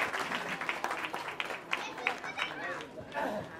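Applause from the audience at a Kolkata Sahu Samaj event at Gangasagar Mela 2024, a broad wash of clapping with crowd chatter and voices mixed in, moderately loud and steady throughout.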